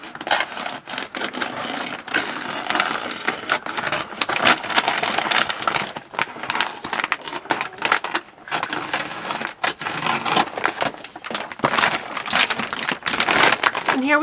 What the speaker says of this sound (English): Now I'm just going to cut along the seam.